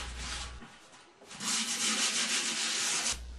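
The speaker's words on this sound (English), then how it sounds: "Use a wire brush and sandpaper to clean the area real good where you're going to install the seal." A wire brush and sandpaper scrub the seal seat inside a Maytag washing machine, a steady close abrasive rubbing that pauses briefly, then resumes louder for a couple of seconds.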